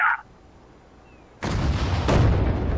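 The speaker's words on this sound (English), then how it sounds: "This self-propelled gun is going to try the same thing, firing it here." A self-propelled gun fires in Sudden Strike 4: a short tone, a quiet pause, then a loud booming blast followed by a second heavy report and a sustained rumbling roar.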